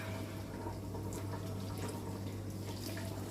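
Water poured into a couscous pot in a home kitchen, a steady continuous trickle and splash heard up close against a constant low hum.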